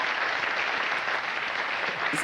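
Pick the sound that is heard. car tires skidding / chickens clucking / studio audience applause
studio audience applause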